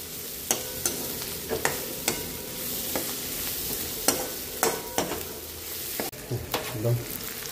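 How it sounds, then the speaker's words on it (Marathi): Tomatoes, bombil fish and onion fry in a pan with a continuous soft sizzle, punctuated by sharp clicks and scrapes of a spoon stirring against the metal. "टमाटे बोंबील कांदा चांगला फ्राय करून घ्यायचा।"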